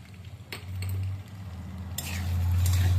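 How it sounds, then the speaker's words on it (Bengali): Spoon or spatula stirring a spiced pasta filling with homemade masala, Maggi seasoning and a little sugar in a pan, giving soft scraping strokes and light clinks over a low steady hum, with no talk. "আবারও ভালো করে নেড়ে নিচ্ছি"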